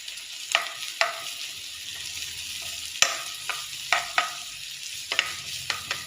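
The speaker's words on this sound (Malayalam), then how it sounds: "അപ്പോൾ ഉള്ളിയും പച്ചമുളകും കൂടി ഞാനൊന്ന് ആദ്യം ഇടുക കേട്ടോ ഇട്ടിട്ടൊന്ന് വഴറ്റി എടുക്കാം" Onion and green chili sautéing in a pan for a drumstick-leaf dish, stirred with a wooden spoon: a continuous close sizzle broken by scattered sharp scraping taps, no talking.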